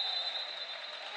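Crowd applause as the team celebrates at the close of a Sporting Sala Marcianise versus Isernia basketball game, a continuous even roar of clapping with a faint steady whistle-like tone through it.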